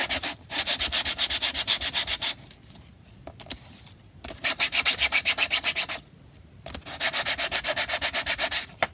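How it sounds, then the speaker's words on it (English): Three bursts of brisk back-and-forth sanding strokes on a paper collage sheet, each a fast rhythmic rasp, separated by short quiet pauses. Close and loud. "This one needs a bit of sanding."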